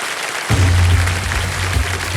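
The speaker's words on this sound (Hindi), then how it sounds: "तालियां बजती रहें इनके लिए देने सब।" A studio audience applauds on a television quiz show, a burst of clapping that starts suddenly and carries on steadily for about two seconds.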